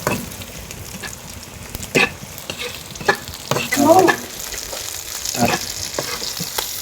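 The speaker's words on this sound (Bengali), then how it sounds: "মরিচটা সুন্দর করে ভেজে নিতে হবে বন্ধুরা মরিচটাও ভাজা হয়ে গেছে" Dried and green chillies frying in oil with garlic and meat, a steady close sizzle broken by stirring scrapes and clacks of a utensil against the pan, no voices.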